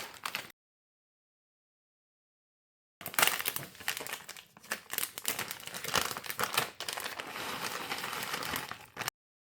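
A plastic bag of shredded mozzarella cheese crinkles close up in short bursts and then steady rustling while the cheese is poured out, with a silent gap between.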